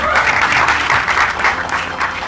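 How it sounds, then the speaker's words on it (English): A crowd at a film trailer launch event gives close, steady applause, a dense clapping that holds evenly for about two seconds. "So having got these claps"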